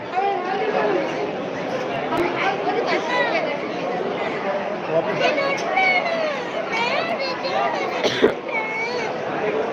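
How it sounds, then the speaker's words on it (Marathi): A dense crowd of pilgrims chatters at Trimbakeshwar temple, a steady, close hubbub of many overlapping voices with occasional louder calls and no pauses. "ही बघा गर्दी खूपच गर्दी आहे"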